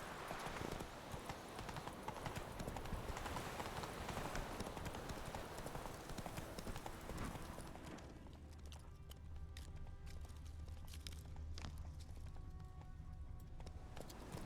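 Roach the horse in The Witcher 3 clops along at a steady trot, hooves loud under a dense wash of wind and ambience that thins out halfway through.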